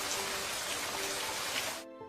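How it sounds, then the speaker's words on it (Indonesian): Heavy rain pours in a dense, steady hiss after school, loud and close, then cuts off abruptly just before the end. "Setelah sekolah, hujan deras turun."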